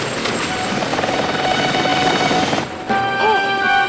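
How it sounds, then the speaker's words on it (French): A loud, continuous helicopter roar with thudding rotor noise over a boat. It briefly dips, then returns alongside a few tonal sounds. "Oh, l'hélicoptère, ça y est."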